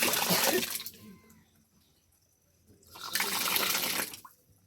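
Water gushes from a newly installed water pipe or hose in two strong bursts of splashing flow, separated by a quieter stretch, with faint voices in the background.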